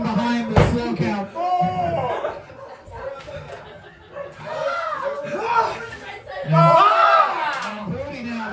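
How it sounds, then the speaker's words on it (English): A capacity crowd at a pro wrestling show cheers, laughs and chatters through a slow count, the noise swelling and dipping in waves, with commentators talking over it. "this capacity crowd really getting behind the slow count"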